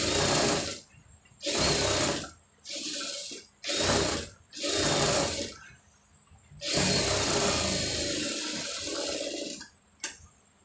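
A sewing machine stitches a blouse sleeve in loud, close bursts of rapid mechanical clatter, several short runs separated by pauses and then one longer continuous run, with no talking.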